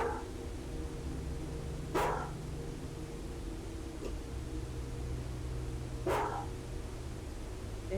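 A dog gives two single barks about four seconds apart, each one clear but a bit distant, over a steady low hum and background hiss.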